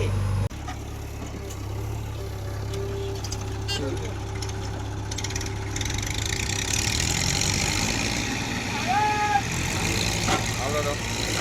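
A tractor engine runs steadily at low revs while pulling a vehicle out of the place where it is stuck. It is close and constant for the whole stretch, with people talking over it.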